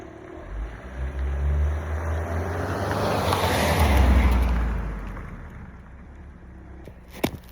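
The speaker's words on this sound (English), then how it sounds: "Car driving by." A car passes by outdoors, a broad rushing swell that builds to a peak midway and fades away, ending with a brief sharp click close to the microphone.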